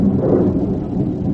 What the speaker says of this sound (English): I don't like the thunder.